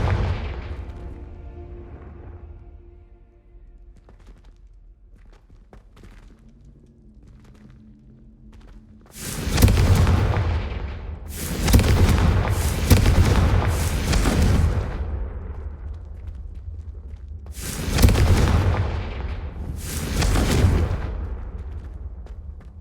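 Confringo spell blasts in the video game Hogwarts Legacy boom out as four or five loud, broad explosions in quick succession, each with a sharp attack and a short decaying rumble, after a quieter stretch of ambient game sound.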